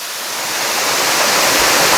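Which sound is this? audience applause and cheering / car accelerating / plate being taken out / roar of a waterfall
roar of a waterfall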